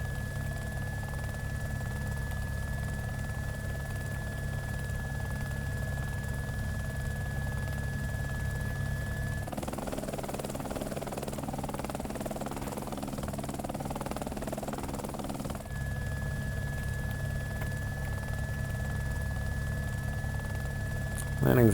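Helicopter landing in the video game Arma Reforger: a steady low rotor and engine drone throughout, with a high whine fading out midway and returning, under occasional talk.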